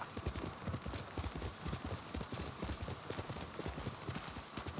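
Horse hooves in a video game clip-clop in a fast, even rhythm on a path, close and steady throughout with no talking over it.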